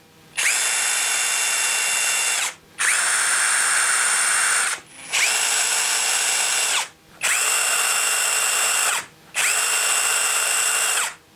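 A Ubermann 18V impact driver (UB18VID II) runs in five even bursts of about two seconds each, a loud, close, high whirring whine separated by short silent gaps.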